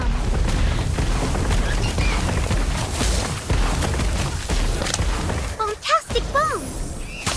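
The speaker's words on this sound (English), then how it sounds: "Atmosphere charm!" Magical blasts of the atmosphere charm in the Harry Potter Magic Awakened video game, booming and whooshing bursts over a noisy battle din, with a voice calling out briefly near the end.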